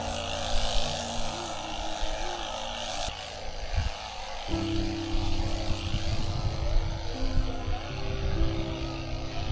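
A small motorised tea leaf picking machine, like a grass cutter, working on a hillside tea plantation, its steady buzzing engine drone running continuously at moderate distance.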